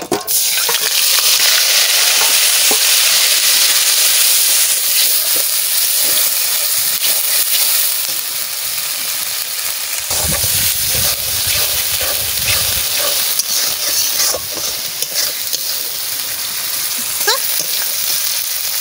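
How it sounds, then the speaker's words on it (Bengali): Ground spice paste and whole cumin frying in oil for a fish curry, stirred vigorously with repeated scraping strokes over a loud, steady sizzle, close up, with a lower rumble midway. "লাল লাল করে ভেজে নিচ্ছি।"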